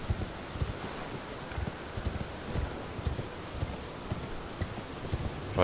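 A horse's hooves clip-clop steadily at a walking pace in the Elden Ring fantasy game, close and moderately loud over soft wind noise, with no talking.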